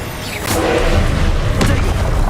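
Confringo blasting spells burst in Hogwarts Legacy: two sharp blasts about a second apart, loud and close, each followed by a low rumbling boom that fills the gap.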